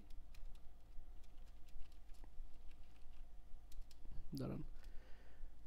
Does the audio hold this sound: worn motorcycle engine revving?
no